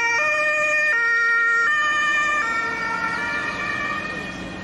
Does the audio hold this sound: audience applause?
no